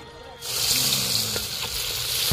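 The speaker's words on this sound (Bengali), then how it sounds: "পকোড়া শুরু হয়ে গেছে।" Pakoras frying in a pan of hot oil at an outdoor picnic, breaking into a loud, close, steady sizzle as batter hits the oil and holding a dense crackling hiss throughout.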